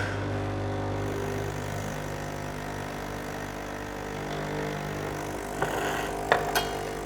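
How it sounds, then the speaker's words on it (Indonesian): An aging De'Longhi ECP 31.21 espresso machine is switched back on and runs with a steady mechanical hum, broken near the end by a few faint clicks and brief hisses. "kita coba nyalain lagi mesin espressonya"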